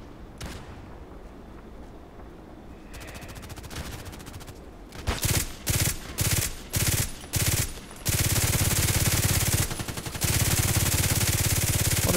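A Glock pistol in a video game fires continuously because of a bug: sparse shots at first, then rapid bursts in separated clumps, then a sustained loud stream of fire.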